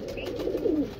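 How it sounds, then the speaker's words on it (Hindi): Pigeons in a loft of high-flying rare breeds in Surat give a short, low rolling coo, close and fairly clear, with no voices over it. "बहुत खूबसूरत भाई कबूतर माशाल्लाह"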